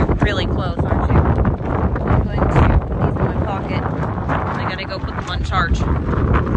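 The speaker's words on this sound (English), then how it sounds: "See what I'm saying about the wind?" Strong gusts batter the microphone outdoors near a farm high tunnel, loud buffeting rumble throughout while someone talks over it.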